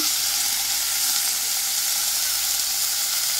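Chopped onion sizzles in hot oil spiced with black pepper, cardamom, cloves, cinnamon and bay leaves for a prawn malai curry, a loud, steady, dense crackle with no pauses.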